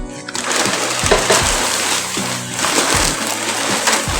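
Puffed rice from a Balaji-brand packet tipped into a bowl of water for a Telugu borugula chitrannam snack, giving a close, wet splash and sloshing with a few soft knocks through the moment.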